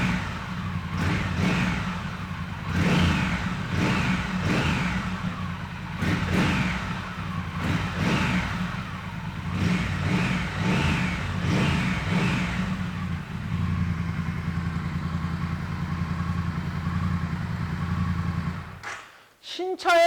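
A 2018 Triumph Thruxton R café racer with a 1200cc engine, revving in repeated throttle blips over a rumbling idle through the muffler, then settling into a steady idle, loud and close; a brief clatter ends it, with talk heard during it.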